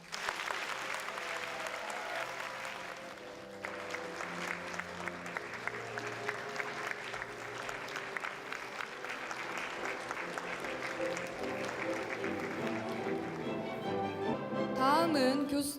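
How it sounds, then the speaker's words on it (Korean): A large audience at the 2017 POSTECH matriculation ceremony applauds as new students enter, a dense, steady roar of clapping that holds for about fifteen seconds and swells slightly toward the end. "뜨거운 박수로 축하해 주시기 바랍니다."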